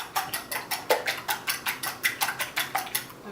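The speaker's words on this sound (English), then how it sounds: "we're gonna whisk that together" Eggs and milk whisked together in a bowl, a quick run of rhythmic metallic clinks and taps against the bowl sides, steady and close, with no talking.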